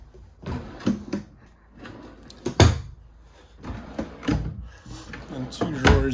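Drawers in the redesigned white farmhouse-style interior of a 2024 Jayco Eagle HT 29DDB fifth-wheel RV bunkhouse opening and closing, several close wooden slides and thumps spaced through the clip while someone talks over them.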